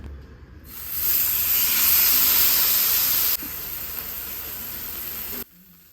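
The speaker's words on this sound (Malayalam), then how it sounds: "ശേഷം നമ്മൾ മസാല തേച്ച് വെച്ചിട്ടുള്ള ചിക്കൻ അതിലേക്ക് വെച്ച് കൊടുക്കുന്നുണ്ട്." Masala-marinated chicken placed into hot oil in a pan: a loud, close sizzle bursts up at once, holds strongly for a few seconds, drops a notch, then cuts off abruptly.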